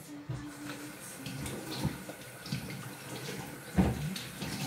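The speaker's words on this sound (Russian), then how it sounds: "я быстро помою посудку" Tap water running faintly into a kitchen sink while dishes are washed, with soft splashes and occasional clinks and knocks scattered through a quiet background.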